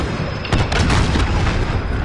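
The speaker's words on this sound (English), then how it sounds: "Allied cruise missile launched" An allied cruise missile launch in a video game, a heavy booming blast that swells suddenly and rumbles on, loud and dense with low-end roar.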